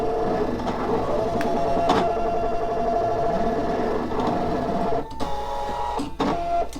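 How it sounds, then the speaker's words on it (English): A Brother ScanNCut cutting machine running, its motor giving a loud sustained whine that holds a tonal, singing pitch, broken by several sharp clicks and brief stops as the carriage moves. "Now my machine kind of sings to me"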